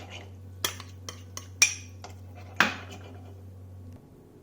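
A spoon stirs sugar syrup mixed with honey in a pot, giving several sharp metallic clinks and taps spaced irregularly over a low steady hum, fairly quiet and without speech.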